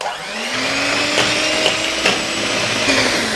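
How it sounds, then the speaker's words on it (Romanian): An electric mixer whips 400 g of liquid cream with a loud, steady motor whir that holds a constant pitch for the whole stretch, with no voices. "dau drumul la mixer și încep să aerez frișca"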